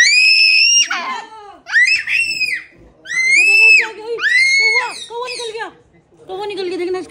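A young child screams in several long, shrill, piercing bursts with short breaks between them, very loud and close.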